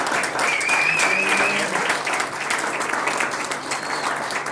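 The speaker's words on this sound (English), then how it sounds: "Can we give him a big round of applause and congratulations?" Audience applause at a football academy awards night, loud and sustained steady clapping from a crowd filling the whole stretch, fading slightly toward the end.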